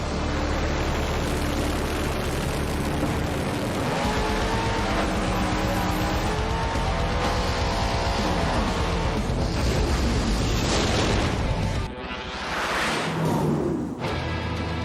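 Twin-turbo drag race cars at the start line, a dense sustained engine roar that builds into a loud launch and then sweeps away sharply, with crowd and track noise beneath.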